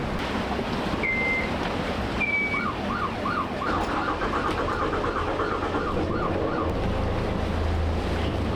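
Waves and wind wash steadily around a sailboat at anchor in rough water, a constant loud surf-and-gust roar with a faint siren-like wavering tone rising and falling in the middle.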